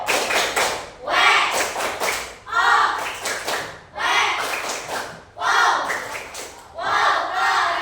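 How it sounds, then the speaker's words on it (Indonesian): Applause from a classroom audience at the close of a group presentation in an Indonesian teacher-training course, arriving in roughly six loud, surging bursts about a second apart, with the noisy clapping and crowd sound rising and falling. "kita kasih apresiasi dengan tepuk tangan"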